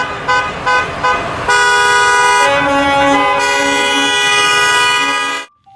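A toy school bus sounds a few short horn toots, then a long, loud, continuous multi-tone horn blast that holds steady for several seconds before stopping suddenly.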